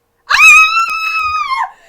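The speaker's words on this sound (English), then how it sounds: "and screamed." A woman lets out a single loud, high, sustained scream after opening a box, starting abruptly and holding steady for over a second before trailing off, with nothing else around it.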